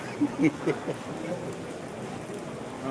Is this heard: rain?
yes